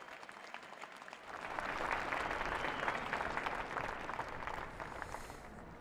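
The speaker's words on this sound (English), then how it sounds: "let us welcome our President and his address with another round of applause" A crowd at President Cyril Ramaphosa's inauguration breaks into sustained applause, swelling after a quiet second and holding as a dense wash of clapping from a large gathering.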